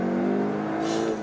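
A Volkswagen Arteon engine revs hard under full-throttle acceleration from a launch, a loud, close, rising drone with strong steady tones and no talk over it.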